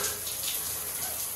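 Water running from a shower and tap in a home bathroom, a steady broadband hiss and splash that stays even and fairly loud throughout, with no voices over it.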